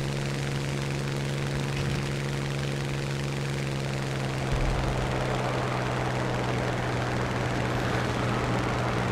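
A propeller aircraft engine in War Thunder drones steadily and loudly throughout, a continuous buzzing hum with no pauses.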